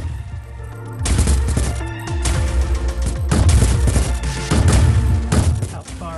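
Rapid, loud gunfire from a gun in the iOS game Glitchskier, bursts of thumping shots in a fast rhythm after a quieter opening second, with short pauses between volleys.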